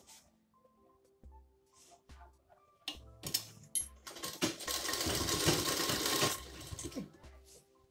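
A sewing machine stitches a baby jumpsuit, starting with a few light taps and clicks, then running in a dense whirring burst for several seconds before slowing to scattered knocks.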